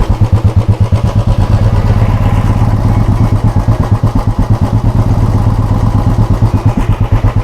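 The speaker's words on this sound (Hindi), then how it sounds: "ये इसका साइलेंसर साउंड।" Exhaust of a Royal Enfield Bullet 350 BS4 idling: a loud, close, steady thump-thump beat from the silencer, continuous and even throughout, alone without speech.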